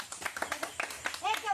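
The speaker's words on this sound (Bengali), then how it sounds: "হাততালি দাও।" Hands clap in a quick, even rhythm, soft and close, while several people talk over the clapping.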